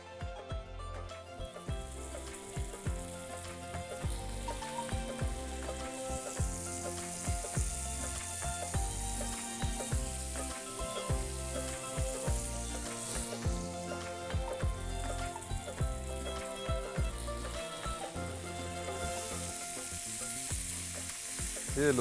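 Chicken pieces frying in a pan for Old Delhi style butter chicken, a steady close sizzle and crackle with occasional stirring and scraping knocks, continuing without talk.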